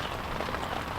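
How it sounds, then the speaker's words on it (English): Rain falling steadily during an overnight fishing session, a dense, even hiss of drops pattering on a surface, close and continuous with no talking. "But wind's trickling in, still raining."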